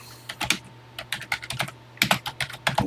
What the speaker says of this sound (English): so let's get busy typing